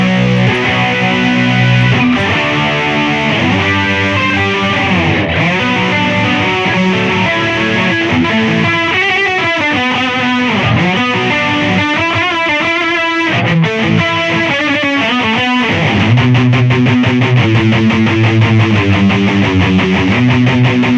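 A distorted electric guitar played through a Boss GT-100 with an AD distortion setting, thick and saturated, moving through riffs and sustained chords at high volume.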